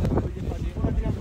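Cold wind at high altitude on a mountain photo shoot, a loud low rumbling gust buffeting the microphone, filling the short moment with blustery noise.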